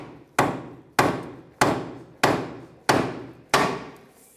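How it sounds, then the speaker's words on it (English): Six sharp, evenly spaced hammer blows strike down on a nylon nut to free the wheel hub during a wheel bearing replacement on a 2007-2013 Mitsubishi Outlander, each hit ringing briefly before the next. "We're just going to use that to hammer down on and release."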